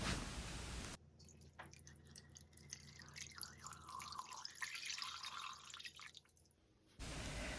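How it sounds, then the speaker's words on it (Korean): Water poured into a small multicooker pot for Korean galbitang, a soft, steady trickle and splash lasting several seconds, close and fairly quiet. "이제 물을 부어주세요."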